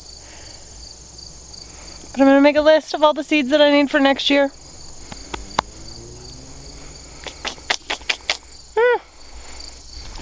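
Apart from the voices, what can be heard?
crickets chirping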